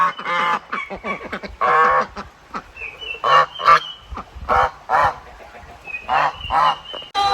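Geese honk loudly and repeatedly in close, overlapping bursts, with a few brief pauses between the calls.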